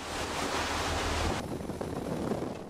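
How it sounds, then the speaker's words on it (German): Ocean waves and wind at sea in the North Sea aboard a fishing trawler, a dense roaring wash of surf and gusts, loud and continuous, easing slightly partway through, with no talking. "2 Meter Wellen und ein bisschen Wind sind für ihn ein Spaziergang."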